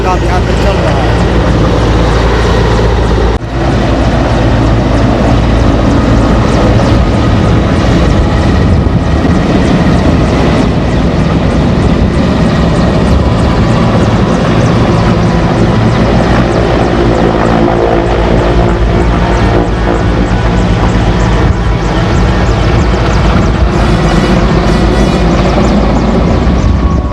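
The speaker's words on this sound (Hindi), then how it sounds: "यहाँ से हेलीकॉप्टर पानी भर के जाएगा" A helicopter filling up with water to fight a forest fire in the mountains roars loudly and continuously throughout, its rotor and engine noise close and constant, with a voice speaking over it.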